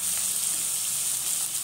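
Chopped green chillies fry in a pan with a steady, bright sizzle that holds evenly from start to finish, close and continuous with no talking.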